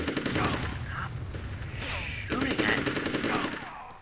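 Enemy soldiers firing guns in the Army Men: Sarge's Heroes video game, rapid bursts of machine-gun fire mixed with game sound effects, heard at moderate volume with speech partly over it.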